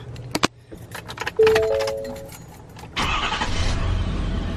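A tow vehicle being boarded and started: keys jangle and a door thuds, a chime sounds, then the engine cranks and catches into a steady close idle; no speech.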